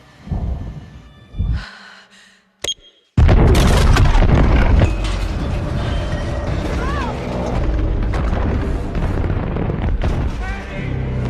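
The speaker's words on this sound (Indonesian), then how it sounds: "bom pun meledak" Bomb explosion in a Godzilla monster film: after a few quiet scattered sounds and a brief sharp crack, a sudden massive boom erupts and rolls on as a loud sustained rumble with debris and crackling through to the end.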